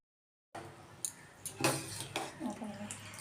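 Uncooked rice tipped into a pot of hot white oil and ghee for biryani, giving a soft rattling pour and faint sizzle with light clinks of a utensil against the pot, quiet and close, after a brief silence.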